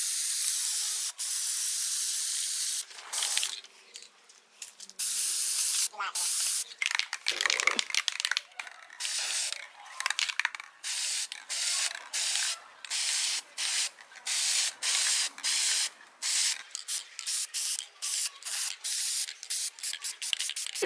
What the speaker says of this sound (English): So I'm just spraying the bars and the chain with this.